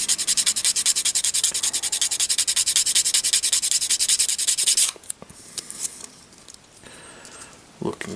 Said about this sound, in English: This one needs a little more sanding than the other one did.